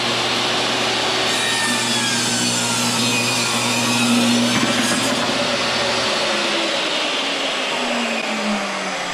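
A saw rips 2x4 lumber into 1.5 by 1.5 strips, giving a loud, steady, continuous whine and grinding rasp that runs for about nine seconds.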